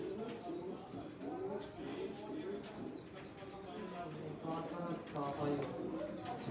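Balance pigeons in a breeding loft in Bahawalpur coo steadily in overlapping low, rolling calls, with thin chirps above and a murmur of human voices underneath throughout.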